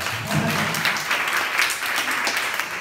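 An audience at a school talk in Hualien, Taiwan applauds after a magic trick, and the close, steady clapping runs without a break from start to finish.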